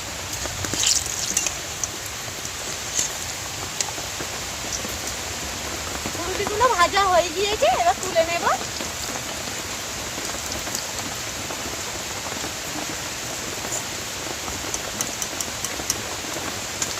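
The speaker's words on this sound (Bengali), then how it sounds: "আর এখন বৃষ্টি পড়ছে, দেখুন।" Steady rain pours outside during home cooking of fried palm-fruit fritters, a dense continuous hiss that holds for the whole stretch while a person talks over it.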